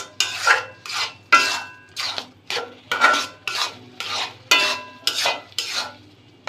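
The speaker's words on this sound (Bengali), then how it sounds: "চুলোরাস মিডিয়াম টু লোতে করে দিয়ে অনবরত নেড়ে যেতে হবে।" A spoon works raw mango mixture around a pan over medium-low heat, giving about ten steady, evenly spaced scraping strokes with short gaps between them, close by and with no other sound present.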